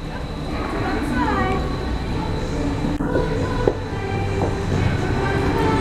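A ride-on train at the Ginger Factory in Noosa rumbles along steadily with a continuous rolling hum, while voices chatter over it throughout.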